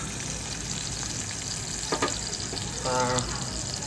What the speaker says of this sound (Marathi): चलो कांदा लसूण टाकला मिरची वगैरे मस्त वेगळी एकदम करणार फोडणीला दिला